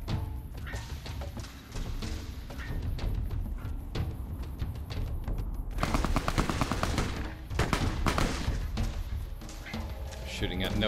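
Machine-gun bursts and single gunshots from Fallout: New Vegas rattle in quick succession, growing louder and denser in the second half, with voices mixed in underneath.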